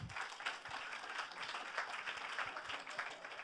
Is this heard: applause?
yes